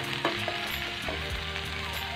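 Ginger-garlic paste sizzles steadily in hot oil while okra masala is being cooked, a close, continuous frying crackle with a few brief stirring clinks.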